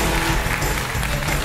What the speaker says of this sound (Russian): Наградим еще раз бурными аплодисментами обладателей этого почетного звания.